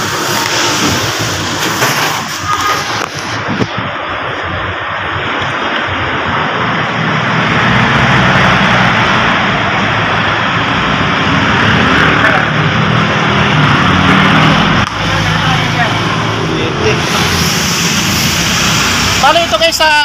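A hot Mitsubishi L300 FB-type van engine with a hard-starting fault idles with a steady, loud drone that grows slightly in the middle, while someone talks over it.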